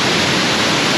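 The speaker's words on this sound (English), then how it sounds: "I think I found the waterfall." A waterfall near Smoo Caves roars as a dense, steady rush of falling water, loud and close with no gaps or voices.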